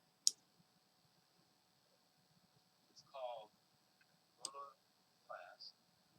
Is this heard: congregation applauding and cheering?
no